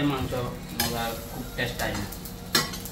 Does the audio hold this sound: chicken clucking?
no